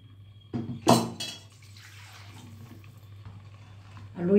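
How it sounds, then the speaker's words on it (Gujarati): Water is poured from a second vessel into a cooking pot of spiced vegetables, a brief close splash and gurgle with a light clank of the pot, then quiet. "બીજા વાસણમાં લઈને પાણી નાખીશ."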